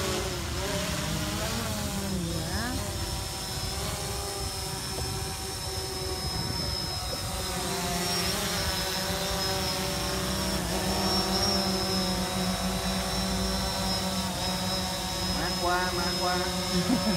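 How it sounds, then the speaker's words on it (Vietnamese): A flying aircraft, likely a small model plane, drones steadily with a tonal engine whine over outdoor background noise, its pitch shifting slightly as it circles back toward its starting point, with people talking over it. "Mang qua máy bay đã về."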